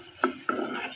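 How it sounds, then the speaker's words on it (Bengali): Dried fish (shutki) stirred in a pan, two brief scraping clanks of a utensil against the metal over a low steady sizzle, close and fairly quiet. "ভালোভাবে নাড়াচাড়া দিয়ে নেবো আর কি"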